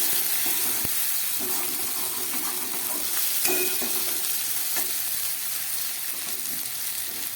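Fried potatoes added to a pan of cooking tangra fish sizzle steadily, a continuous close frying hiss with a few stirring clinks and scrapes, no voices.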